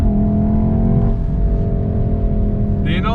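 A Volkswagen Golf R or BMW M140i hot hatch holding a steady, loud engine note with rising harmonics, close and alone, ending in a short higher-pitched whine.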